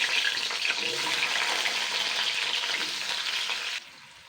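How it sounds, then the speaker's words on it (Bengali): Potatoes frying in white vegetable oil with salt and sugar, a loud, dense, steady sizzling hiss up close that drops away abruptly near the end. "নুন চিনি দিয়ে একটু আলুটাকে আগে ভেজে নেব"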